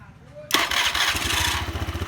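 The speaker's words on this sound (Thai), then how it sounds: "ก่อนที่เราจะเปลี่ยนหัวฉีดนะครับเดี๋ยวลองมาสตาร์ทเทสดูกันนะครับ" Honda Click 110i scooter with a faulty fuel injector starts abruptly from near silence, its small engine catching and then settling into a steady, close, pulsing idle that runs to the end.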